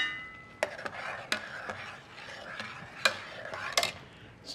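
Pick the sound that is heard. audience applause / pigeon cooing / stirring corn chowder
stirring corn chowder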